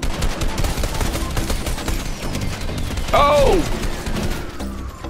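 Gunfire in the Fortnite Battle Royale video game, a dense run of shots close by over steady game noise, with a brief descending whoosh and a short exclamation from a player partway through.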